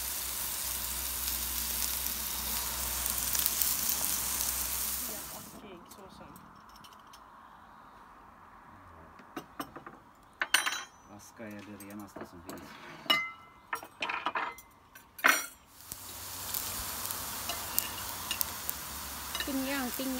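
Soft steady sizzling of pork frying on a grill pan, interrupted midway by clinks and clatter of utensils on the pan, then sizzling resumes.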